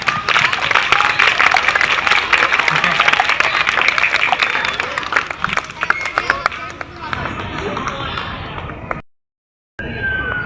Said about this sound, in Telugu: ఒక్కసారి మనం గట్టి క్లాప్స్ కొట్టినాము.